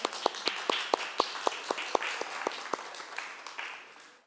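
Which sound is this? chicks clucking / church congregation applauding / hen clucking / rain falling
church congregation applauding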